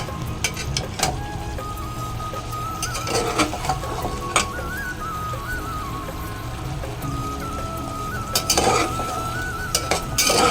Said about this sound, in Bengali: ভালো করে এবার কষবো